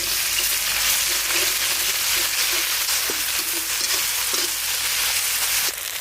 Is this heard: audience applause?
no